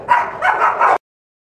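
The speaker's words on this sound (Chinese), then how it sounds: "小金毛在这边。" A golden retriever puppy lets out a quick burst of a few close, loud yappy barks that lasts about a second and then stops dead into silence.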